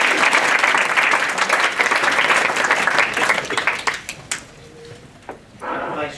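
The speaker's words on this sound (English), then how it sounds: "It's always nice to get a clap before we've even started." An audience at a business talk applauds to welcome speakers, with steady, full clapping that tapers off after a few seconds into scattered claps and quiet room sound.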